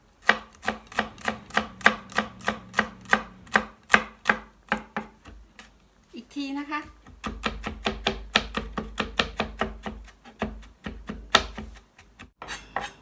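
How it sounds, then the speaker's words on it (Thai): Knife chopping garlic on a cutting board, a fast regular run of sharp close taps that pauses briefly while someone speaks, then resumes just as rapidly. "จับรวมกันนะคะแล้วก็หั่น"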